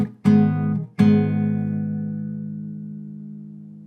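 An acoustic guitar strums two chords from a song, the second left to ring out and slowly decay, close and clear with no talking.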